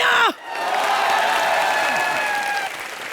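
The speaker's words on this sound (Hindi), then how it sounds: "यहाँ जोरदार तालियां" Studio audience applauding on a Hindi TV comedy show, a dense, steady burst of clapping with a brief cheer at the start, sustained loudly for a few seconds before tapering slightly.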